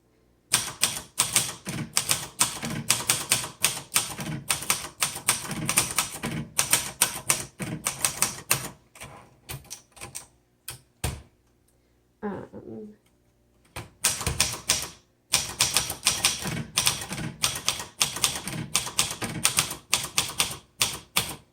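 Rapid clacking of a 1963 Royal Royalite manual portable typewriter, steady bursts of keystrokes with a brief pause and a few isolated strikes midway, close and fairly loud.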